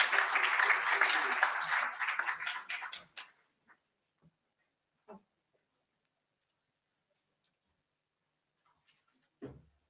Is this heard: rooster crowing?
no